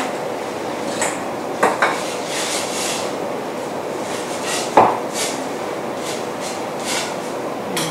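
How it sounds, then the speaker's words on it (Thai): A spoon scrapes and knocks against a cooking pot of tom kha gai, with a couple of sharp clinks over a steady kitchen hiss. "นนุ่นคนนิดนึงนะคะ"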